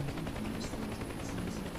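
A helicopter in the DCS flight simulator game gives off a continuous, fairly loud rotor-and-engine drone with a steady throb, alone with no voices over it.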